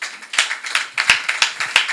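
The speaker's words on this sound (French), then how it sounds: "applaudissez très fort pour vous-même" A small audience at a televised talk show on becoming a surgeon claps loudly and close, in a steady run of distinct, sharp hand claps with no voices over them.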